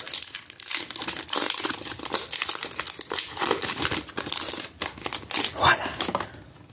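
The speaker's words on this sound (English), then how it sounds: "let's start off with this pack right here. So we're gonna open this up." Crinkly plastic wrapper of a football trading card pack being torn and peeled open, a busy run of close crackling and ripping with a sharper tear near the end, while someone talks over it.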